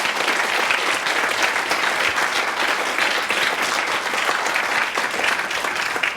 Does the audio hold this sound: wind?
no